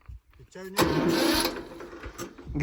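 A tractor engine cranks and catches, rumbling into a loud running roar while people talk nearby.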